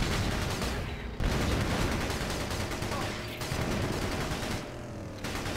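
A light recon vehicle's forward machine gun in Battalion Wars fires in long continuous rattling bursts, loud and dense, with brief pauses between volleys.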